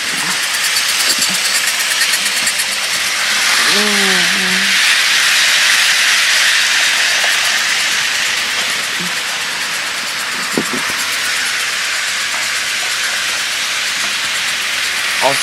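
Model train set circling a Christmas tree, a loud continuous hiss with whirring motor noise, a brief whistle-like warble near the start and occasional small clicks, no talk.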